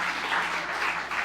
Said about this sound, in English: can I get a huge round of applause, first of all, for you for coming out to support Brittany